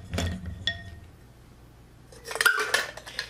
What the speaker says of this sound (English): A couple of ice cubes.